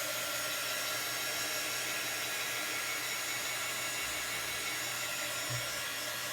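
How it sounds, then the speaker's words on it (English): A small embossing heat tool blows hot air to dry a chalk transfer on an ice skate rental craft piece, giving a steady, close whirring hiss that runs unbroken and evenly loud throughout. "I'm gonna use my little embossing tool."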